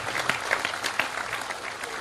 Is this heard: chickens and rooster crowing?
no